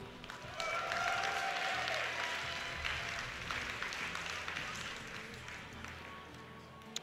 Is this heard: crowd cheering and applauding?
yes